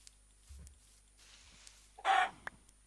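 A single short burst of chicken clucking in Minecraft, fairly loud against a quiet background with a few soft clicks around it.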